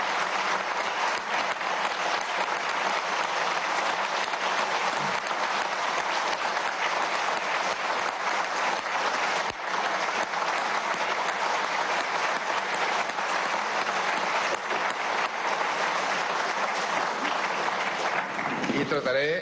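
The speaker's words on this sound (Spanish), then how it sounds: "pedir un aplauso para el pueblo de Venezuela" Lawmakers in Venezuela's National Assembly applaud at its 2021 installation session, a long, sustained burst of clapping from a large room that holds at an even level before fading at the end.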